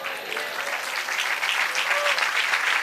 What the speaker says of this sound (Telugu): నోరు మూసుకొని చప్పట్లు కొడతారండి